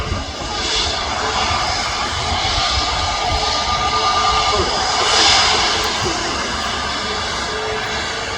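Emirates Airbus A380 jet engines at takeoff, a loud, continuous roar that swells slightly midway, with faint talk underneath.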